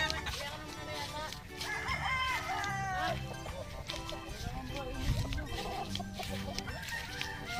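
Chickens at a rural Philippine yard, with roosters crowing and hens clucking repeatedly, close and fairly loud over constant background noise and someone talking.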